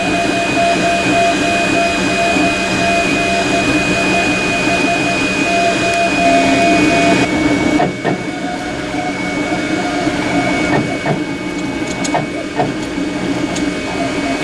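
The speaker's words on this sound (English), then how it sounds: "the 3D printer puts an outline of the part, so it kind of has a reference point, and then it just starts building it" A desktop 3D printer lays down blue plastic for a customer's part, giving a steady whirring, buzzing motor drone with faint stepping chatter, continuous and close for the whole stretch, with no voices.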